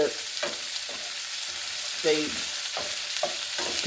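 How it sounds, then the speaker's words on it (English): Onions and potatoes fry in a pan with a steady hissing sizzle, broken by regular scraping stirs roughly every half second, close and continuous with no talking. "So I'm going to let these fry a few minutes before I do put my squash in"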